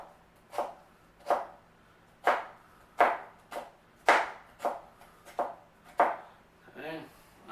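A knife chops thin slices from a small potato on a cutting board, about ten distinct sharp thuds at an even, unhurried pace, close and clear, with a brief murmur at the end.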